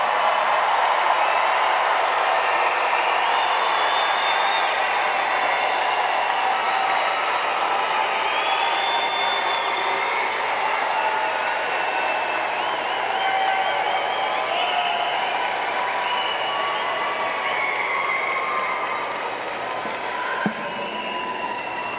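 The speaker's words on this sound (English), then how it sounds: "let's salute them with your applause" A large commencement crowd at a university graduation ceremony applauds for over twenty seconds, a sustained wash of clapping and crowd murmur with scattered cheers, steady and even throughout.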